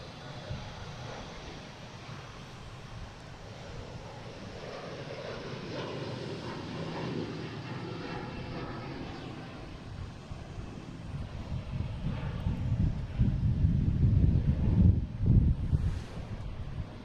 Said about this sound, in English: we got Delta taking off, heading to LaGuardia, E175